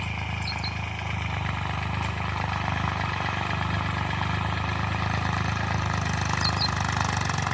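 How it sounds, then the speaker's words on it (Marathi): A tractor engine ploughing a field drones steadily and fairly close, a constant low rumble with no breaks. A brief faint chirp rises above it twice. "आता ट्रॅक्टर बोलावलं नांगरायला"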